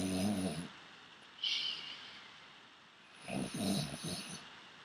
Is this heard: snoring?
yes